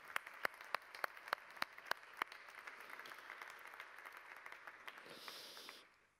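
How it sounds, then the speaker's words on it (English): A few sharp, scattered claps come first, then a conference audience welcoming EU Commissioner Mariya Gabriel claps together as a soft, continuous patter that fades out at the end. "A warm round of applause."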